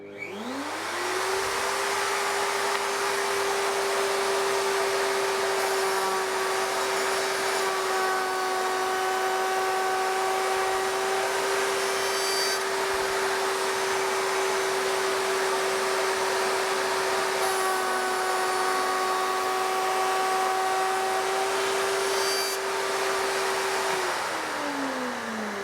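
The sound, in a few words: router table cut with dust extractor running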